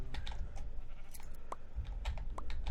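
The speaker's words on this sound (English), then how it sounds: "Look at all these sheep." Sheep in Minecraft give a few short bleats nearby, mixed with keyboard clicks and faint game background sounds, no talking.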